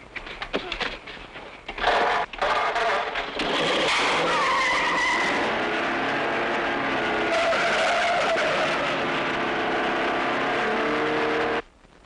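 A car driven hard with tyres skidding and squealing, loud and continuous for about ten seconds, with engine roar and screeching rising and falling, a few sharp bursts at the start, and no talk over it.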